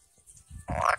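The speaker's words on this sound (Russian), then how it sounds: "Когда ей гладишь спинку, она квакает." A tame frog from a garden pond croaks once as its back is stroked, a short soft call rising out of faint handling noise near the microphone.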